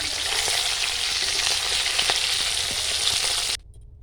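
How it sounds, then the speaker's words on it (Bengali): Snakehead fish heads fry in oil with a loud, dense, steady sizzle and light crackling that cuts off abruptly just before the end. "মুড়োগুলো আর একটু ভেজে নেব"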